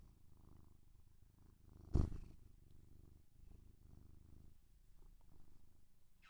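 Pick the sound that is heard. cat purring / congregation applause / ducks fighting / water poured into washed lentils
cat purring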